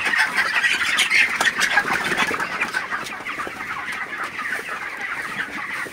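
Many 27-day-old broiler chickens cluck and squawk together, a dense, continuous barnyard chatter at close range with no voices.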